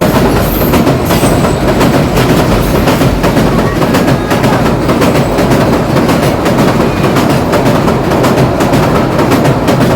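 A train thunders across a bridge close by, loud and continuous with dense rumbling and rhythmic clattering of wheels over the rails throughout.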